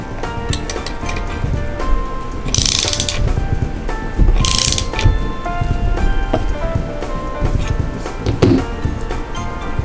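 Scope base screws on a Remington 700 rifle are tightened by hand tool, producing a run of close, small ratcheting clicks with a few brighter metallic ticks.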